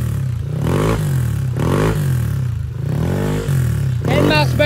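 A Yamaha NMAX version 2 scooter with a 59 mm throttle body and an exhaust pipe stripped of its fiber packing revs loud and close in rising, harmonic-rich pulls, with the open pipe sounding raw.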